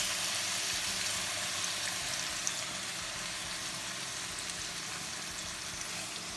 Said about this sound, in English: I've heated half a teaspoon of ghee and 1 tablespoon of oil in this pan, and now I'm going to add this Kaleji into it